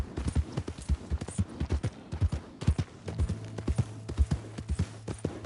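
Horse hooves in the video game Red Dead Redemption 2, a brisk, rhythmic clip-clop of a trotting horse, close and clear, with a few sharper knocks mixed into the steady beat.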